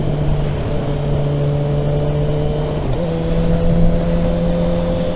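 A Kawasaki Ninja ZX6R motorcycle holds a steady engine drone, then the pitch drops briefly as it shifts up into sixth gear and carries on at a slightly lower tone, loud and close.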